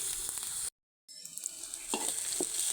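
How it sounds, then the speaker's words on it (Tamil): Onions, dried red chillies, curry leaves and ginger garlic paste frying in a pan for Pallipalayam chicken, a steady close sizzle broken by a sudden brief silence, then resuming with soft stirring scrapes. "வெங்காயம், வரமிளகா, கருவேப்பிலை, இஞ்சி பூண்டு பேஸ்ட்டு நல்லா வறுத்துருச்சு"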